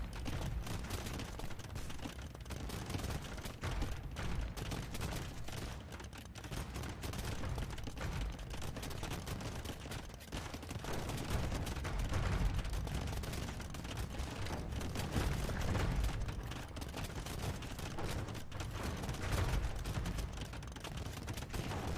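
Bombard cannons firing in a medieval real-time strategy game battle, a dense, continuous rumble of booms and clashing combat noise at steady loudness throughout.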